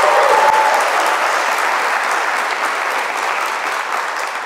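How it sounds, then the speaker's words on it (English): A concert audience applauds musicians, including a concertmaster, soloist and harpist, with a sustained, dense wash of clapping that fades slowly over several seconds. "So give them a round of applause."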